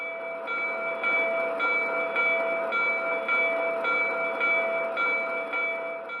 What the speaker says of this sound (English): this S2 had the automatic swinging bell feature